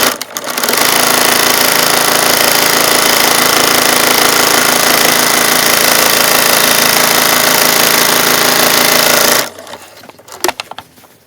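A sewing machine stitching down fabric on a quilted Tula Pink cushion, running in one loud continuous burst of rapid mechanical chatter for about nine seconds before stopping, followed by a few small clicks.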